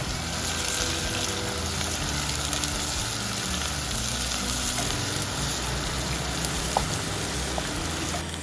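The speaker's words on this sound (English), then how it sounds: "I will add the chopped onions into it and fry them all together." Steady, dense sizzling of chopped onions frying in a hot pan, continuous and close, with no talking.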